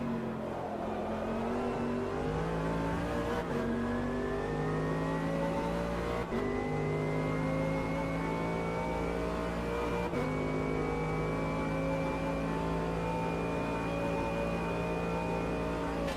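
Several race cars in the RCO hourly races online racing game roar steadily throughout, engine notes rising and shifting through gears as cars run close together, a continuous loud layered drone with no talking.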